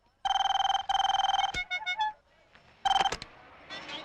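A telephone rings loudly and close during a call about a loan: two long electronic trills, then a burst of choppy tones, another ring and a faint beep.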